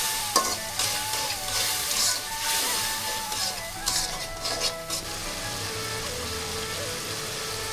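Chili and coriander powders sauté in a pan for a fish curry, giving a steady bright sizzle with soft scraping strokes of a spoon, close and moderately loud, easing into a quieter even hiss toward the end.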